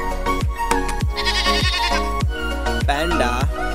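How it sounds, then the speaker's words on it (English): Toy sheep lets out a wavering electronic bleat over a steady rhythmic mechanical clicking and droning hum from battery-operated toys, close and loud. "Hello, sheep."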